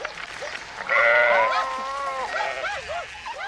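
Sheep bleat during a dog attack on the flock, several overlapping wavering calls rising loudly at about one second and continuing in ragged, close cries to the end.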